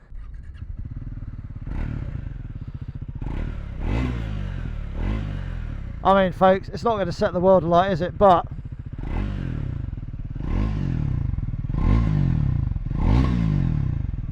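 A Triumph Scrambler 400 X single-cylinder motorcycle idles steadily with a lumpy, throbbing beat and a short burst of sharp revs midway, close to the mic, while someone talks over it throughout.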